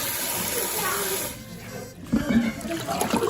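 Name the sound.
water running while washing dishes in kitchen sink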